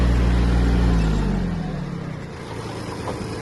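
Kubota A-195 Japanese mini tractor engine running loudly, then its pitch sinks and the sound eases to a lower, quieter idle-like hum within a few seconds.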